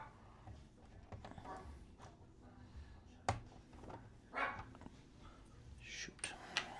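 A pet dog barks indoors, a few sharp, separate barks standing out over quiet room noise and faint household sounds.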